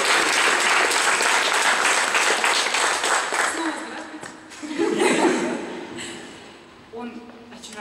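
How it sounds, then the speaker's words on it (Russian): An audience at a 2014 amateur opera performance claps loudly and steadily for several seconds. The applause fades, swells again briefly with a bit of chuckling, then dies away near the end. "Давайте их похлопаем."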